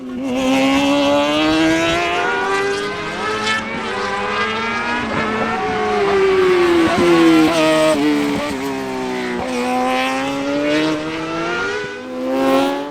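Dean Murphy's rally buggy speed car blasts through Stage 1 of the Irish Winter Series at Pallas Karting Tynagh, its engine loud and close, revving and sweeping up and down in pitch through repeated gear changes, with no talk.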